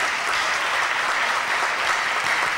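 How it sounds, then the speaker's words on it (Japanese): A congregation at an Easter church celebration claps steadily and evenly, a dense sustained round of applause filling the room without any voices over it. "じゃあもう一回拍手しましょう。"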